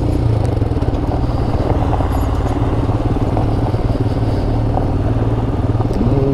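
A Royal Enfield Himalayan motorcycle cruising down a road, its engine thrumming loud and steady with a continuous rumble and wind, close by and unbroken, with no talking.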